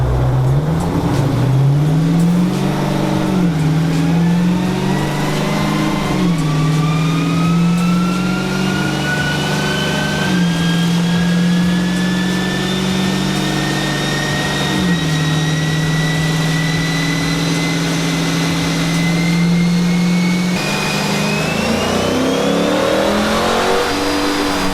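A 5.7 Hemi V8 with a new cam revs on a dyno, loud and close, its pitch climbing through several stepped pulls and holds before rising sharply near the end.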